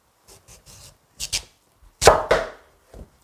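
A knife chops kohlrabi into bite-size cubes for kkakdugi on a cutting board: a few light taps, then a quick pair of sharper chops, then two heavy, close strikes and a soft final tap.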